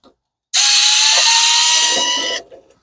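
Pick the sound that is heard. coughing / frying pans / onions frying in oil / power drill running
power drill running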